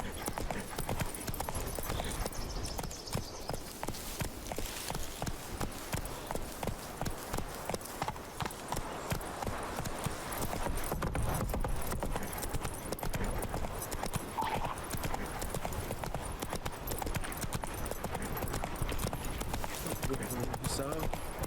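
Roach, Geralt's horse in The Witcher 3, gallops in a steady rapid hoof rhythm through the whole stretch, close and fairly loud, with game ambience and occasional voices underneath.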